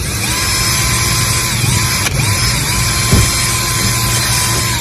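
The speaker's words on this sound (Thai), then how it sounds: "จากนั้นก็ใช้สว่าน" A power drill bores holes for mounting a sign, a loud continuous whirring whine close up with brief dips and surges in motor pitch and a sharp click partway through.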